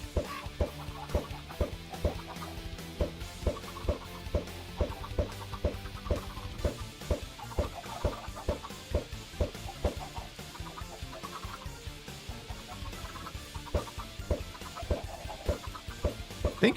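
Blocky chickens in a hardcore Minecraft world cluck repeatedly, many short clucks overlapping in an irregular, steady chorus with no talking.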